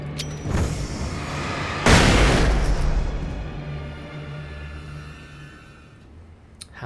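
A flashbang goes off in the remastered Alan Wake game: a loud, broad burst around two seconds in, with a lingering ringing rumble that slowly fades. Faint game ambience runs beneath, and no one speaks.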